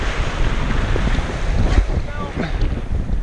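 Strong wind buffets the microphone during surf fishing on an ocean beach, a constant loud rumbling roar with surf beneath it and a brief voice in the middle.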